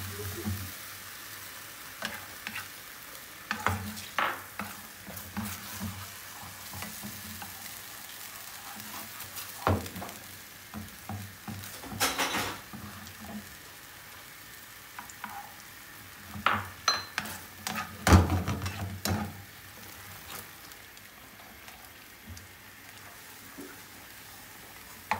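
Steak sauce with cheese powder being mixed in a pan for a fish steak dish, a quiet simmering sizzle broken by intermittent stirring scrapes and utensil clinks.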